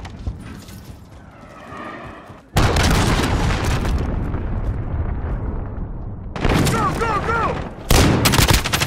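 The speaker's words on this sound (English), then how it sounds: "Enemy cruise missile incoming." A cruise missile strike in a Call of Duty Hardpoint match, with heavy booming blasts and bursts of gunfire that come in loud waves over a rumbling battlefield background.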